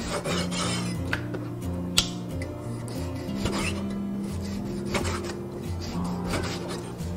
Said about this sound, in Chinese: 接着把猪肉改刀切成小块。